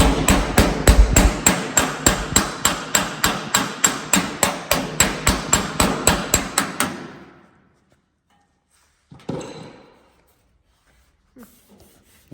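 Hammer and dolly pound a Porsche 356 fender panel in a fast, even series of about twenty-five loud, ringing metallic blows, then stop, followed by a brief clatter and quiet.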